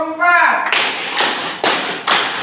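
A classroom group follows a counted clapping routine: a brief spoken call is followed by four sharp, evenly spaced claps in unison, each ringing briefly in the room.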